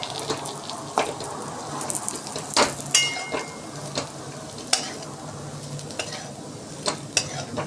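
Dates, cashews and almonds being sautéed in ghee in a pan, soft sizzling under repeated scraping and stirring strokes, with occasional sharper clinks of a spoon against metal.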